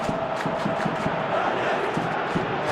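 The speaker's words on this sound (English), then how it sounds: "Crowd calling for him to shoot." A football stadium crowd roars and chants, urging a player to shoot, with a dense, sustained wall of voices and rhythmic surges of shouting that carry through the whole moment.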